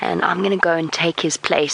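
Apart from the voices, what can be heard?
No distinct noise like a dog, phone or traffic.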